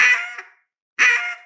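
A duck call blown as a hen quack, two loud raspy calls close to the mic separated by a short silence, the first trailing off and the second cutting in sharply.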